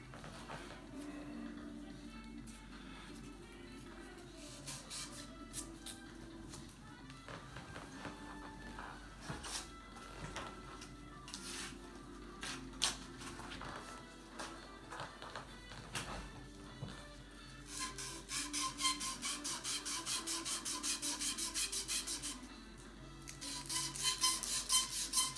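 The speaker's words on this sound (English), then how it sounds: "now we'll go back to the sandpaper" Sandpaper rubbed by hand against a surface during a Techno-dud install, faint repeated rasping strokes that grow louder and more rhythmic toward the end.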